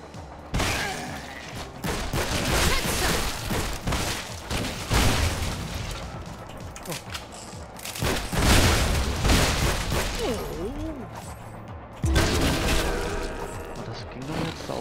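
Repeated booming pump shotgun blasts in the video game God's Trigger, spaced irregularly, with voices talking over them throughout.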